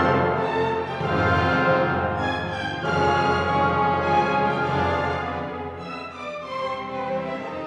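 An orchestra plays the first subject melody of a Brahms symphony, a flowing, full-bodied line of sustained strings and harmonies rising and falling continuously with no talk.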